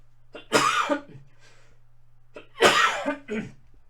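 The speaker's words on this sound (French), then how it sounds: "je tousse." Two separate coughing fits, each a harsh burst of a few coughs, close and fairly loud, with a quiet pause and a low steady hum between them.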